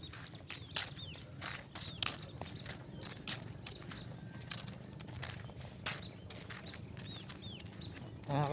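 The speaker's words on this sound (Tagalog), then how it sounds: "Daming ibon." Many birds chirp and call in scattered bursts over a low, rumbling background by the sea at Panayunan, Candelaria, Zambales, fairly faint and distant.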